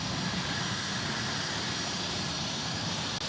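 Embraer Praetor E550 business jet at Dallas Love Field, a steady broadband engine roar with even hiss, continuous and moderately distant, no talking.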